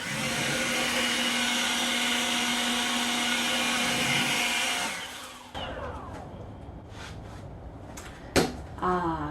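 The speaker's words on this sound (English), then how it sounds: "we use the blower apparently" A blower clears sanding dust off kitchen cabinets with a loud, steady whine for about five seconds, then cuts off, leaving faint clatter and a couple of sharp knocks.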